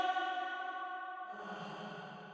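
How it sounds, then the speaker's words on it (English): A sung vocal phrase rings out through a reverb effect, its sustained tone holding and then dropping lower as a smooth wash of echo trails on, with nothing else heard alongside. "So I'm going to play it with the reverb"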